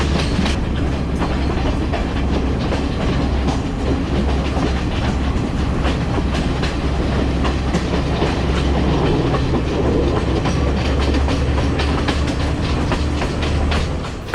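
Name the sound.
train running along a mountainside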